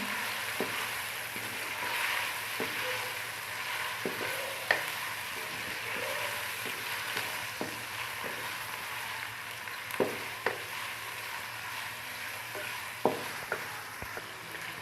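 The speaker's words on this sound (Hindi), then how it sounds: "इसको हम इसमें डालेंगे ऑयल में। इसको फ्राई करेंगे 2 से 3 मिनट हम।" Small cubes of chicken frying in oil give a soft, steady sizzle with occasional clicks of stirring, fairly quiet and close, with no one speaking.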